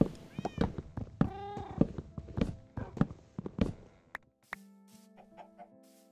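Cats meowing in Minecraft, repeated short mews mixed with clucking chickens and footsteps during play, fairly close, followed by quieter in-game sounds.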